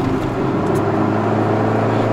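A Honda CRX del Sol with a short-shift gearbox pulls in third gear, its engine and exhaust droning as a steady, close, loud rumble with no voices.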